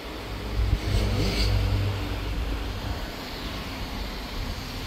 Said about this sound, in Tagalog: Tingnan ni Alex yung makina, yung sasakyan.